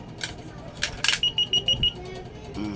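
A universal coin slot emits five short, evenly spaced electronic beeps as a 5-peso coin registers, preceded by a clink of the coin and light background noise.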